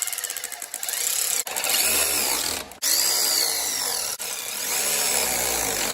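A power tool drives and tightens front suspension bolts on an MG TD under restoration, loud whirring bursts near the mic with a few brief pauses between runs.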